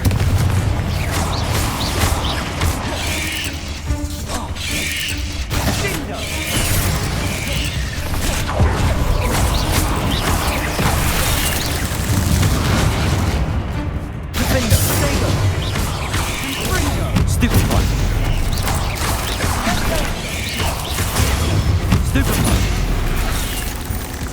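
Confringo fire spells blast repeatedly during a Hogwarts Legacy battle, a steady barrage of booming magical impacts amid dense, loud combat noise that runs without pause throughout.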